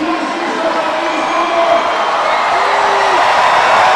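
A basketball arena crowd at a Premier Basketball League home game on New Year's Eve, Rochester Razor Sharks against Dayton, keeps up a loud, steady roar and murmur for the whole stretch, with no distinct peaks.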